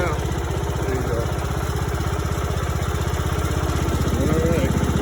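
A ride-on lawn tractor engine runs steadily as it is driven around a backyard, a loud, close, rapid chugging drone that holds constant throughout, with voices faintly under it.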